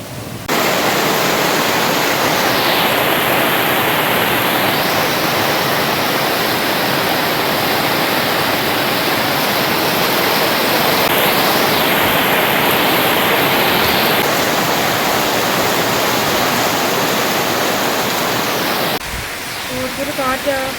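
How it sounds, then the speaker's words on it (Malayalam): Strong wind roars steadily outdoors as rain clouds gather, a loud, unbroken rushing wash with slight swells, cutting off abruptly near the end. "ഒരു കാറ്റാ."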